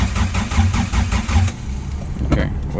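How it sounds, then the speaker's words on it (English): A Toyota MR2 AW11 with a 7AGE engine being started for the first time since 2016: rhythmic, close cranking pulses that give way to a rougher, uneven engine sound. "7AGE AW11 MR2, first start since 2016."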